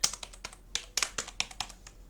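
Someone types on a computer keyboard with a foreign-country layout, a close, clear run of crisp, irregular key clicks with no voices.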